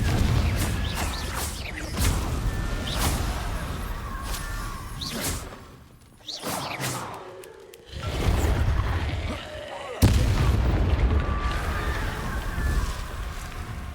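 Confringo blasting spells explode during combat in the video game Hogwarts Legacy, repeated sharp bursts and whooshes over dense, loud game noise, with a short lull midway.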